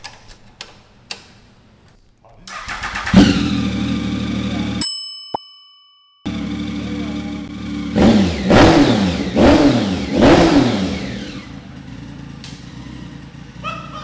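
Triumph Speed Triple R motorcycle fitted with an SC Project exhaust: a few sharp blips, then the engine fires and idles loudly before rising through several strong rev sweeps, close and unaccompanied by talk.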